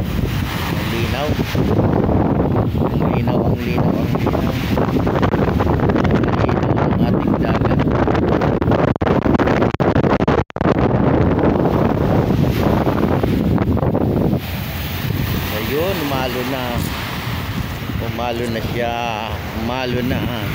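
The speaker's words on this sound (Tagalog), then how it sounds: "Yan naman yung ating dagat." Loud, constant wind buffeting the microphone with rushing sea water and waves of Manila Bay underneath, steady throughout.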